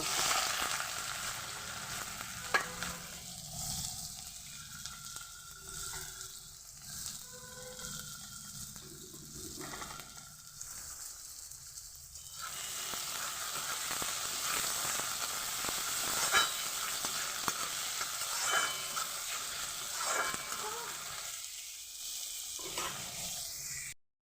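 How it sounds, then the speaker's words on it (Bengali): Onions frying with bay leaf in oil for a mutton and potato curry give a steady, close sizzle with scraping stirs, the hiss fading midway and swelling again; no talk. "পেঁয়াজটাকে আমি ভালোভাবে ভেজে নিয়েছি"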